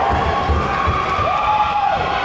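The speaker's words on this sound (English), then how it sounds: "Crowd is really into it tonight." A crowd at a women's college basketball game, Queensborough versus LaGuardia, cheers and shouts in a loud, continuous gym roar with a few low thuds underneath.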